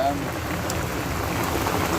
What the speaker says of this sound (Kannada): ಕಾಣ್ತಿದೆ ಅಲ್ವ ನಿಮಗೆ ಕ್ಲಿಯರಾಗಿ ಮಳೆ ಹೊಡಿತಿದೆ